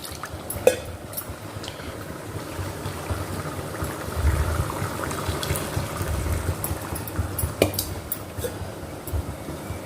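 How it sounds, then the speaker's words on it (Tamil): Curry simmers and bubbles in a pot with soft, irregular popping and occasional light clinks, steady and close. "இப்போ நல்லா ரெண்டு மூணு கொதிக்கு மேலேயே வந்துடுச்சு"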